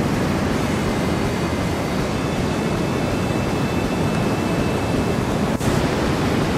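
Waves breaking at a heavy Australian slab surf break, a steady loud wash of roaring surf with no distinct separate impacts and no voices.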